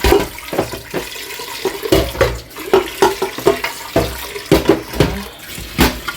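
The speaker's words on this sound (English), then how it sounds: "Pour that out and then rinse the pot." Tap water runs while a cooking pot is rinsed after pouring out leftover starch, with splashing and knocking bursts from the pot against a steady flow of water.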